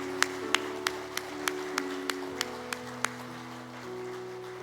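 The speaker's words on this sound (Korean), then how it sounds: "뜨겁게 한번 박수해 드리겠습니다" About ten evenly spaced, crisp claps ring out over a steady sustained tone in a church service installing a new elder, then stop, leaving only the tone.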